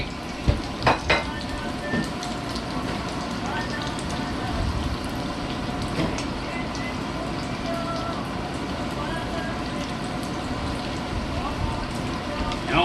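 Sausage egg rolls fry in hot grease with a steady, dense crackle and sizzle running throughout, broken by a few sharp clinks near the start, while people talk over it.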